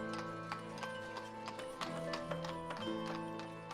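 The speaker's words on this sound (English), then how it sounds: "here comes the horse with another family." In the sandbox city builder Ostriv, a horse pulling settlers walks along with regular, quiet clip-clopping hoofbeats over a gentle tonal backdrop.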